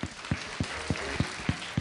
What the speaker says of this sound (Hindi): तालियां बजाइए सबके लिए।